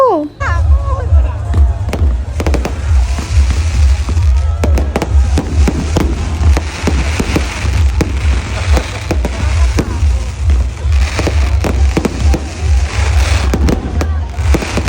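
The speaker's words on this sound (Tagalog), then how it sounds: "Closing event na nga to ng Anilag kaya naman may pa-fireworks sila after ng concert." Fireworks at the closing event of the Anilag festival in Laguna, set off after a concert, with loud rapid booming bursts and crackles throughout amid crowd chatter and excited voices.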